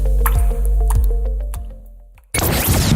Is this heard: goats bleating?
no